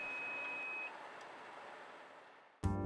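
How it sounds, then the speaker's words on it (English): Bendix Wingman Advanced collision warning alert sounding inside a truck cab: a thin steady tone over cab rumble, then a sudden loud, harsh buzzing beep bursts in at the very end. "an audible tone sounds, indicating that you need to take immediate action to avoid a collision"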